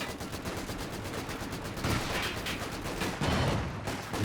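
Support gun shelling in a Company of Heroes 2 battle, with dense overlapping gunfire and repeated loud booming impacts in a steady, chaotic barrage.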